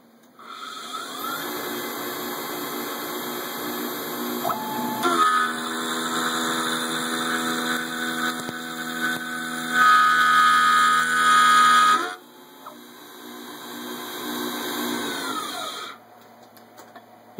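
A Grizzly X3 mini mill cuts metal at an aggressive 52 inches per minute, whining and grinding loudly and continuously, with the cutting pitch rising and shifting as the pass goes on and some chatter near the end.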